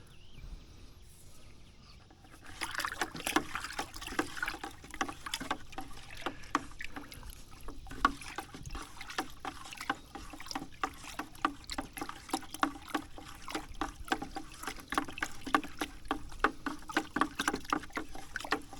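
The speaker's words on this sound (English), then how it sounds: "we're going to want to mix it. Okay. Little paint mixer guy here." A small paint mixer churns a salt and vinegar weedkiller solution in a container, giving quiet, rhythmic sloshing and splashing that starts after a short hush and continues steadily, close by.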